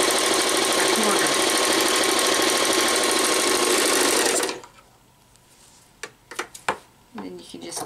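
A sewing machine runs steadily and loudly, stitching fleece for a pillow cover, then stops abruptly, leaving a few clicks and handling noises.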